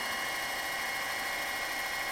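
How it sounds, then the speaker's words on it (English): A center drill starts a hole in metal on a machine for a PM Research Solar Stirling engine build, giving a steady, moderately quiet whine with a high tonal hum that holds constant with no pauses or voices. "Using my center drill."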